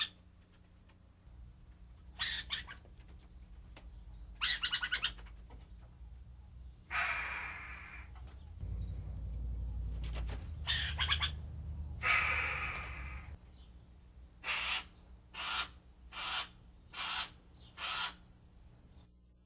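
Burrowing owls calling inside an aviary: several raspy, hissing screeches in separate bursts, then a quick run of five short repeated rasps near the end, heard close over a low steady hum.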